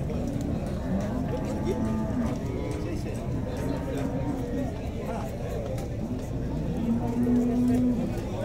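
Cattle, cows, bulls and young steers mixed together at a livestock fair in Dois Riachos, Alagoas, give low moos several times over a continuous crowd hubbub and background talk.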